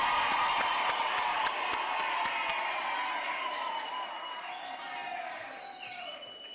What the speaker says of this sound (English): Megolokwane, a round of applause.